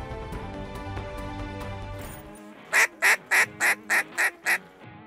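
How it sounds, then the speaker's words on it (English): Ducks on a late-season hunt: a rapid string of seven loud, evenly spaced quacks from a duck call rings out near the end, following softer rhythmic honking and outdoor background. "let's talk about late season duck calling and even wise ducks"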